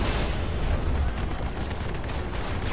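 Ballistic gunfire from the 325A ship in the space game Star Citizen, a dense, continuous roar of rapid shots with deep rumbling booms, steady and loud throughout with no pauses.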